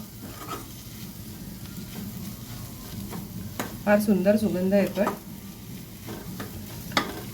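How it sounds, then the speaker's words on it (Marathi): Steady sizzling of spice masala sautéed in a pan on a gas stove, with occasional stirring clinks, while a person talks briefly over it. "छान मसाला परततो इथे आपला"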